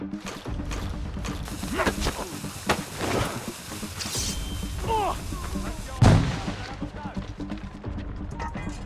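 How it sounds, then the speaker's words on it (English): Grenade blast and gunfire in Assassin's Creed Rogue combat, scattered booms and sharp shots over a rumbling battle bed, with one heavy low explosion late on and voices talking throughout. "J'envoie une grenade."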